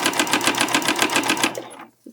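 A sewing machine top stitching the outer layer of a rainbow fabric pouch, a close, fast, even rattling run that stops abruptly near the end, followed by a brief soft click.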